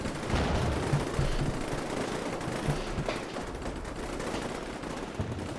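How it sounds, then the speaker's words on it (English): Rapid gunfire and bullets ricocheting off building walls in Combat Mission: Black Sea, a continuous crackling stream of shots and impacts, dense and moderately loud throughout. "Dang, all the bullets are ricocheting off the walls."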